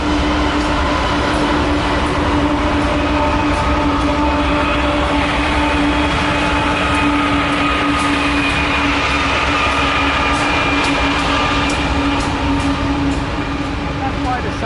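A long freight train pulled by about six locomotives rolls steadily past an active rail line near Belden, loud and close throughout, with sustained engine drone, wheel rumble and faint clatter, while people talk over it.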